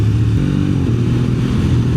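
A motorcycle rides along a winding, bumpy country road, its engine a close, steady low throb with slight pitch wavering and no one speaking.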